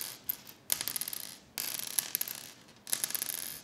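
Bone guitar bridge pins clink together in three bursts of bright, glassy rattling like marbles, close and fairly crisp, with short gaps between the handfuls and no talking.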